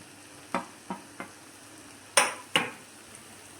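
Grated paneer is stirred and mixed in a pan, giving a few sharp scrapes and clacks of a spoon against the metal: three lighter strokes, then two louder ones, over a quiet background.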